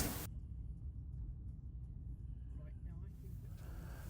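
Car driving along a road toward a row of cottages in Ivinghoe, heard from inside as a steady, low engine and tyre rumble, with a person talking over it.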